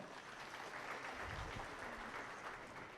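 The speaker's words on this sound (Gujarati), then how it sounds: "તાળીઓના ગડગડાટથી આપણે એમનું સન્માન કરી ઠાકુર સાહેબને તિલક કરી રહ્યા છે." An audience at a Svayamvar ceremony in a Mumbai hotel hall claps steadily, a dense, even patter of many hands that is moderately distant and continuous for the whole stretch.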